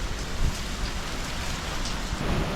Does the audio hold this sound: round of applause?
no